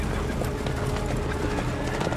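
Cavalry horses approach after a river crossing, their hooves clip-clopping in a steady, close, continuous clatter over a dense background rumble.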